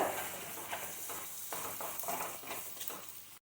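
Onion, tomato and green chilli with salt sautéing in a pan for a vegetarian egg fry. A steady close sizzle runs under intermittent scraping stirs, then cuts off abruptly.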